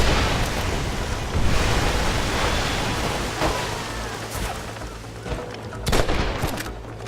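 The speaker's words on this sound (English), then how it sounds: "They're shooting down on us!" Gunfire from enemies on a cliff in Red Dead Redemption, sharp shots cracking over a loud wind-like wash, with a burst of louder reports near the end.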